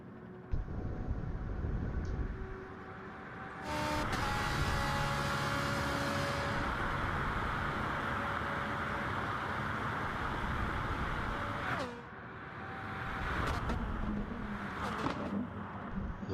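Ferrari race cars lap Circuit de la Sarthe in a racing video game, their engines a continuous close roar that surges and shifts in pitch as they accelerate down the straights and brake into the chicanes.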